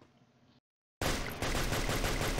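Rapid bursts of Free Fire video game gunfire crackle loudly after a brief quiet gap, a dense fusillade of shots following a faint rustling start.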